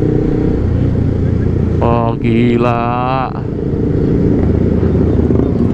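Motorcycles passing on a busy city street during a Sunday morning group ride at Senayan City, with a steady loud engine roar throughout and a brief exclamation spoken over it.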